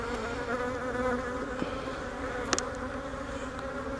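Honey bees buzzing densely at a beehive entrance, a steady close swarm drone with a few louder passes near the listener, no talking.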